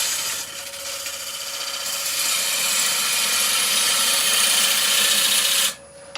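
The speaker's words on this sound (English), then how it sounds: "I'm going to use the skew again in a minute, just to soften that edge" Skew chisel cutting a spinning wooden pestle and mortar on a lathe, a steady close hissing scrape that grows louder before stopping abruptly near the end.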